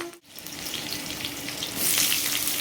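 Black cumin seeds and dried red chillies fry in hot mustard oil, a steady bright sizzle that swells louder toward the end after a brief dip near the start, with no voices.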